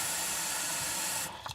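Water being added for watercolor painting gives a steady close spray-like hiss that stops abruptly near the end, followed by a couple of faint clicks.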